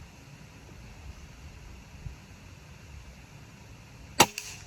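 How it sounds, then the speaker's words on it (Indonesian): One sharp crack from a Combat PCP air rifle with a Yumaja barrel close by, followed by a brief faint rattle, after several seconds of low steady hiss. "Tembakan ketiga."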